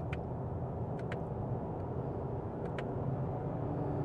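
A 2023 Toyota Camry SE Hybrid in Sport mode, accelerating through paddle-shifted gears, gives off a steady, moderate engine and road drone from inside the cabin. There is no talking during it.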